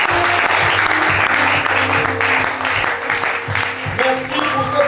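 A church congregation at a Sunday service claps together in a dense, continuous round of applause, steady and lively throughout.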